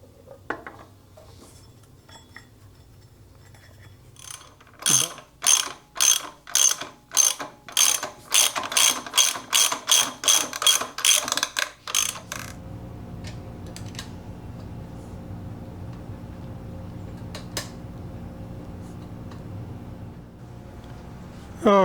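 Rapid ratchet clicks come in fast bursts at close range while a torque converter goes onto a Buckboard Flyer minibike. The cranking lasts about eight seconds, and a few scattered metallic tool knocks follow after it.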